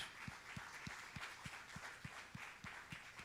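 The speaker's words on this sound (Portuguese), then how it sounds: "Você pode aplaudir ao Senhor" A church congregation claps to the Lord in a steady, evenly spaced rhythm of single beats, faint and somewhat distant, over a soft wash of crowd noise.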